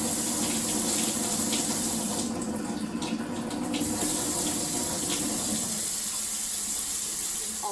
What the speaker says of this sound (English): the alkaline ionized water is going to come out from here